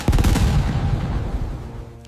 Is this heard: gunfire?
yes